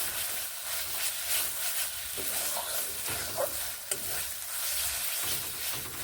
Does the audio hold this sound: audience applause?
no